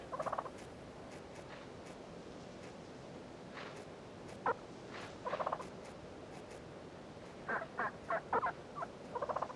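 Wild turkeys gobbling in the open near a baited capture site, repeated rattling gobbles in short bursts at moderate distance over quiet outdoor ambience.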